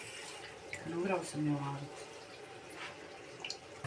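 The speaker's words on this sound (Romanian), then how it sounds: "Bine completez așa cu apă." Water pours into a cooking pot of cabbage, a brief splashing fill near the microphone while someone talks quietly.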